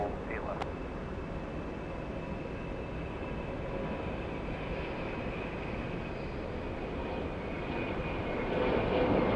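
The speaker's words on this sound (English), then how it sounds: "Delta A321 exiting the runway." A Delta Airbus A321 rolling off the runway at Hartsfield-Jackson Atlanta airport produces a steady, moderately distant jet engine whine and rumble that slowly grows louder toward the end.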